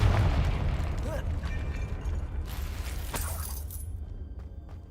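Confringo fire spell in Hogwarts Legacy, a loud explosive burst at the start that decays into crackling debris and a second sharp pop, fading out toward the end.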